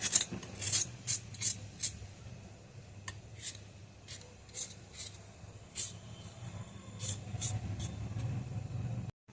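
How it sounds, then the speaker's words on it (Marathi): A hand peeler scrapes along raw carrots in a home kitchen, giving a series of short, crisp rasping strokes in an uneven rhythm, close up, with quiet pauses between some of the strokes. "अशा प्रकारे मी संपूर्ण गाजर सोलून घेते।"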